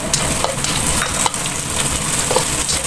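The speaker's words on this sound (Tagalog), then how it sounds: "Gasahin muna natin yung bawang." Garlic sizzling in hot oil in a pan, with onion added next, for cooking string beans and tofu; continuous loud frying hiss with occasional sharp clinks of a utensil stirring, no voices.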